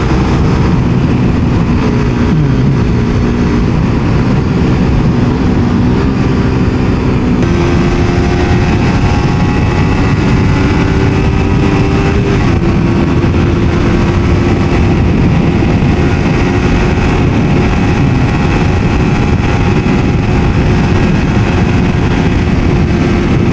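A Suzuki GSX-S150 motorcycle engine drones steadily throughout while riding, its pitch stepping up in stages as if shifting through gears, loud and close with constant road noise.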